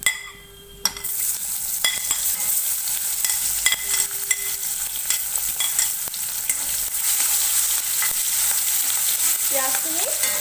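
Onions fry in oil with five-spice, a bright continuous sizzle after a brief quiet start, punctuated by occasional stirring taps and clicks, close up with no speech.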